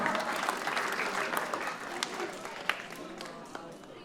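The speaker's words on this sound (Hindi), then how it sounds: "जोरदार तालियां रंजना जी के लिए" Audience applause for a guest at a welcome and karaoke night, a dense, steady wash of clapping from a crowd that stays fairly even throughout, with a few sharper claps standing out near the end.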